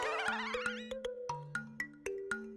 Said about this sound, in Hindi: फिर टप्पू के मोबाइल की रिंगटोन भी सुनी थी